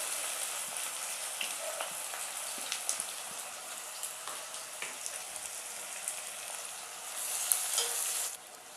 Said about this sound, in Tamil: வெங்காயம் நல்லா கோல்டன் ப்ரௌன் ஆகிற வரைக்கும் வதக்கணும்.